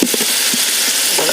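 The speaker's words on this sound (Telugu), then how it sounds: "ఇక చికెన్ వేస్తున్నామండి." Chicken pieces go into a hot pan while making chicken dum biryani, giving a loud, steady, close sizzle of frying with a few soft low bumps from stirring and no voices.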